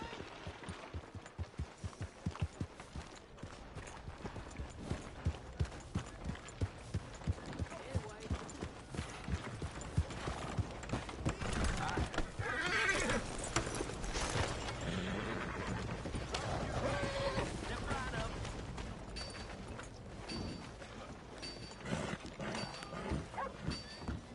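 Hooves clop rhythmically with a horse whinnying among sound effects and music in Red Dead Redemption 2, voices talking over parts of it.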